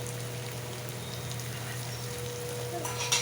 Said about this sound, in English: the onions the ginger garlic is nicely fried to perfection